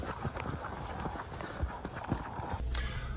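Horse hooves clip-clopping on a walking safari near Botswana's salt pans, an uneven series of soft thuds close by under a low outdoor background, with no talk.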